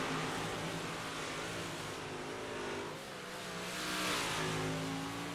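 Big block modified race cars roar around a dirt track in a continuous loud, droning engine wash, with revving that swells and fades as cars pass, heard alone without talk.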